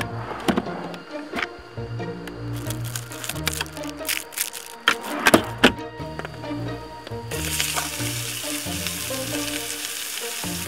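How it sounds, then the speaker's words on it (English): Steak sizzles and crackles steadily in a hot frying pan at a campsite in Japan, with sharp pops and occasional clatter of utensils, close and fairly loud throughout. "Let's get the frying pan heated up for the steak"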